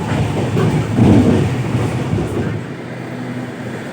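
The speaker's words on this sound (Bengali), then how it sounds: "কতটা দুরন্ত বেগে ছুটছে আমাদের দুরন্ত এক্সপ্রেস" Puri–Sealdah Duronto Express rolling at high speed, a steady loud rumble of wheels on rails with rhythmic clatter, heard from inside the train, continuous and close.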